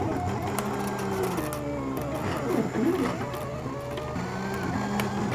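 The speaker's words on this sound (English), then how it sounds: "So I'm going to take you back over to the machine. We're going to watch it cut out the background." A Silhouette Cameo cutting machine cutting out a paper treat box background, its small motor whirring and buzzing steadily in stop-start strokes, close up and alone.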